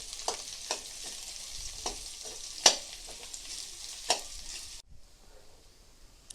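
Potatoes frying in a pan with cumin and curry leaves, with a soft sizzle and repeated scraping stirs of a spoon, one sharp knock midway, then the stirring stops and only a faint sizzle remains.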